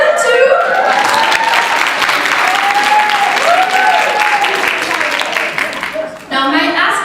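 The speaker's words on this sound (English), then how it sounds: "let's clap for them too." A live audience breaks into loud, sustained applause, with cheering voices and laughter mixed in. The clapping runs steadily for several seconds, then cuts off abruptly near the end, where a single voice begins to speak.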